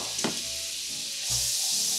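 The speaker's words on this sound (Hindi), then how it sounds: "ये मेरे पास बटर है, इसकी मैं ये हाफ स्टिक जो है 4 टेबल स्पून ये मैं डाल रही हूँ।" Half a stick of butter, about four tablespoons, sizzles in a pan at the start of a butter chicken recipe, a soft steady hiss with a brief scrape or stir near the start and another swell later.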